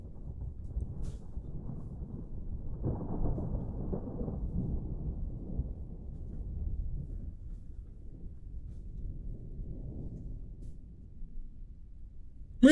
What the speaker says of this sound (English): I just have a thunderstorm that constantly follows me around.